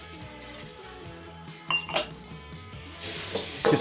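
Onion and tomatoes fry over medium heat in a pan for fried rice, with a soft sizzle under clinks and scrapes of a utensil against the pan and a louder hiss toward the end.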